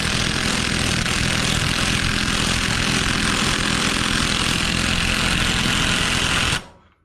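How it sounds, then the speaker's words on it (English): An AOBEN cordless 1/2-inch impact wrench on low power drives a bolt back in, giving a loud, steady, continuous buzzing hammer that runs unbroken for about six and a half seconds, then stops abruptly. "Let's drive it back in on low power."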